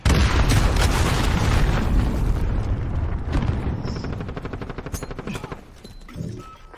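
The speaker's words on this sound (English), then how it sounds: "Enemy cruise missile." A cruise missile strike in the Modern Warfare video game: a heavy, loud explosive rumble with crackling debris that gradually fades over several seconds, alone without talk.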